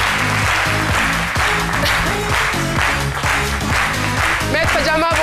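A television studio audience applauds on a midday talk show, with steady clapping over rhythmic background music.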